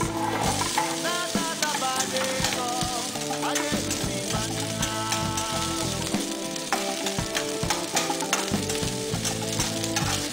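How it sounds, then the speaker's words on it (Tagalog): Garlic and onions frying in a pan of hot oil for bopis, a steady dense sizzle with stirring clatter running continuously and loudly throughout. "Pag mainit na yung mantika, pwede na ilagay ang bawang. Ng onions."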